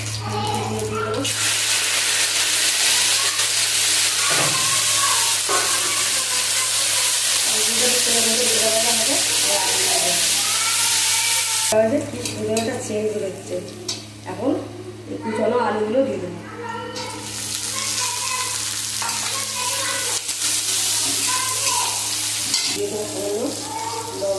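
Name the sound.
frying in oil in a wok (kadai)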